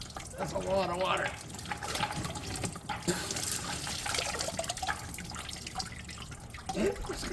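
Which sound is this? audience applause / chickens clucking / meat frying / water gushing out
water gushing out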